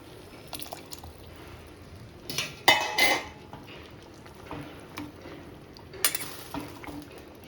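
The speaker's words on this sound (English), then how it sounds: "Mix it well and just let it cook in the masala for a minute or 2" A utensil stirs chickpeas cooking in masala in a pot, with a few clinks and scrapes of metal against the pot and soft wet sounds, quiet and close.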